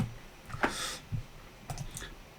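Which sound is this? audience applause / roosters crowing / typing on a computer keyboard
typing on a computer keyboard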